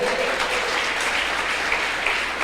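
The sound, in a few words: congregation applauding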